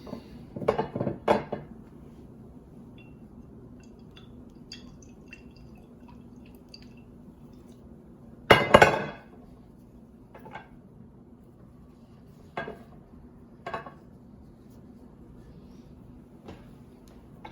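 Soft wet scraping and dabbing as an almond-oil-soaked piece of paper towel is pushed with a chopstick through the bore of a baroque oboe, a few brief close squishy pulls with quiet pauses between.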